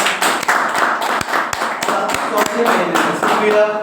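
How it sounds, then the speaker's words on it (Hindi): A Hindi-speaking audience at a seminar claps loudly for Suraj, with dense, steady applause running for about four seconds, a few sharper claps standing out near the mic, and faint voices mixed in. "मैं चाहूंगा सूरज जी के लिए जोरदार तालियां बजाइए।"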